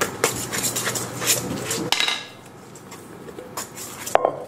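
Dough is beaten in a mixing bowl with a utensil, clattering and scraping rhythmically against the bowl for about two seconds, then fainter stirring and a sharp knock near the end.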